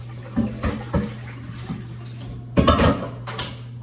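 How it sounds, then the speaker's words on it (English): Dishes being washed at a kitchen sink after cooking spaghetti, a pot clanking and scraping under running water, with a steady low hum and several close knocks and splashes, one denser burst near the end. "I'm just gonna wash up this dish, this last pot of spaghetti that I had made."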